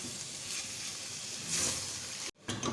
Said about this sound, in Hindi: ये शामिल करेंगे और इसको अच्छे से फ्राई करेंगे 1 मिनट के लिए